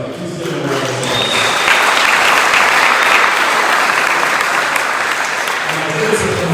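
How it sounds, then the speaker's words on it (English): At a scholastic and scholarship awards event, the crowd applauds the families on stage, loud sustained clapping swelling in after a brief spoken lead-in, with a voice returning near the end. "So please give them a round of applause."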